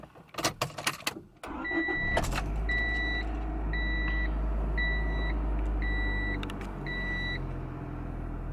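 A one-owner, original 1995 Honda Civic Si cranks briefly and catches, then settles into a steady low idle while a dashboard chime beeps in an even repeating pattern over it.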